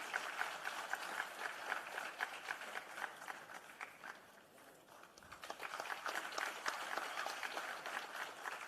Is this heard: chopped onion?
no